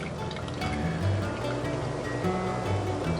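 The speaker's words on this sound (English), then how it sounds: "So I'm going to go ahead and pour off the grapes." Liquid from cooked wild muscadine grapes being poured off, a steady continuous splashing flow heard close and fairly quiet.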